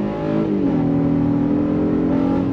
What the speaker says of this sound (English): we're gonna go on throttle here to showcase the all-wheel drive